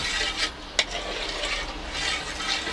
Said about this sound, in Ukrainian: Тепер ми все розмішуємо, щоб повністю сіль розтворилася.